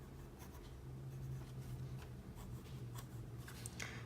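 Pencil scratching and erasing on paper while sketching a Fortnite-themed drawing, a close continuous rubbing with small strokes and scratches.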